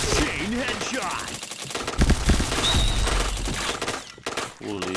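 Rapid automatic gunfire in the shooter game Point Blank, loud bursts of shots rattling in quick succession with short pauses, under a player talking over the action.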